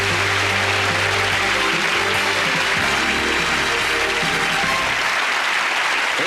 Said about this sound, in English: Let's give them all a round of applause as they all change places.